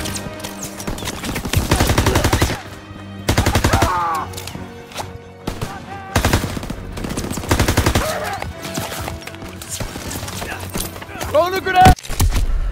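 Machine gun fire in the World War II shooter game Call of Duty WW2 rattles in several loud bursts from a hayloft position, mixed with explosions and battle noise while soldiers shout over it.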